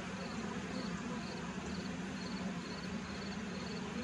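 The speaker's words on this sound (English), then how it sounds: "These are some big bees." Honey bees buzz steadily inside a horizontal hive during an inspection, a dense, continuous low hum with a faint higher whine throughout, close and even in level with no talking.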